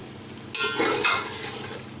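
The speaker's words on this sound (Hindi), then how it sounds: "इसको डाल के हम चम्मच से इसको हिला देंगे।" A spoon stirs beef pulao with spices in a pot, giving two short scraping, sizzling strokes over a low background hum.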